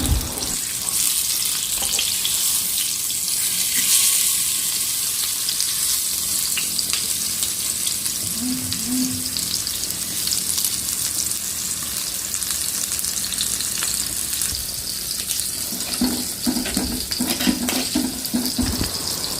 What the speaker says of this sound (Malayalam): ഒരു അഞ്ച് മിനിറ്റ് ഒന്ന് വഴറ്റിയതിന് ശേഷം